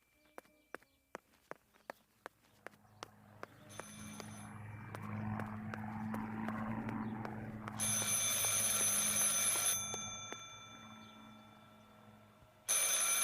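In the video game Martha Is Dead, an old telephone rings in short repeated bursts over low droning ambience, mixed with footsteps that start as sparse clicks and swell into a louder passage.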